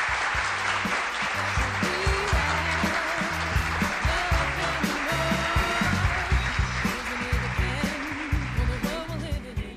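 Sustained applause from a TV studio audience, steady clapping mixed with music playing underneath, fairly loud throughout.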